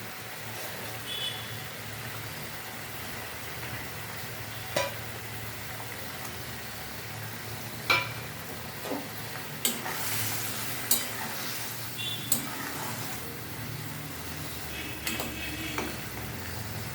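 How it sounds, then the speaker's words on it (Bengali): Pabda fish slipped into a simmering curry and stirred, a soft bubbling sizzle beneath intermittent scraping and utensil taps, fairly quiet and close with no speech. "এরা ফুটে উঠলে আমি মাছগুলো তুলে দেবো। এটা ফুটে উঠেছে, এবার আমি এর মধ্যে মাছগুলো দিয়ে দেবো।"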